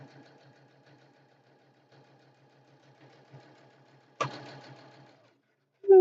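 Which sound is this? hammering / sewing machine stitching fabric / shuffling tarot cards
sewing machine stitching fabric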